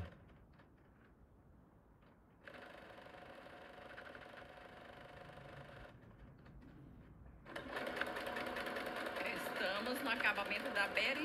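Sewing machine stitching embroidery on a dish towel decorated with pumpkin, eggplant and tomato, starting quietly, running in bursts with a pause, then whirring louder and faster near the end.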